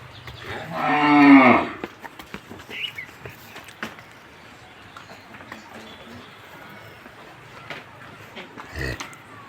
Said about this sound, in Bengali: একদম বাছাইকৃত গরু